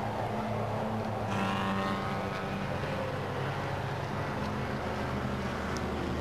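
Historic racing cars, among them a Mercedes and a Healey Silverstone, pass during a race at the Goodwood Revival. Their engines drone steadily at a moderate distance under a constant wash of track noise.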